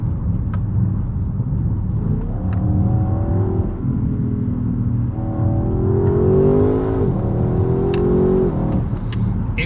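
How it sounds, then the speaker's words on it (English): Engine of a 2022 Audi RS6 Avant with mild hybrid assist, heard from inside the cabin while accelerating: a deep, steady rumble with rising and falling revs across repeated pulls. "if you have a listen, yes, of course there is a bit of that enhanced cabin noise"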